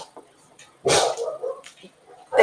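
Neighbors' dogs bark outdoors in the early morning, a loud burst of barking with a growly edge followed by softer yips and another bark starting at the end, faint voices in the background.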